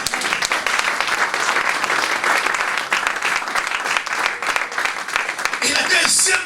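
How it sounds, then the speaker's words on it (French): A church congregation applauds continuously, a dense sustained clatter of many hands that surges near the end, with voices mixed into the crowd noise. "Et on acclame le Seigneur."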